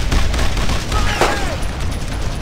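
Gunfire in the World War II shooter Brothers in Arms: Road to Hill 30 forms a dense, continuous rattle of rifle and machine-gun shots, with a brief whistling sweep near the middle and shouting voices mixed in.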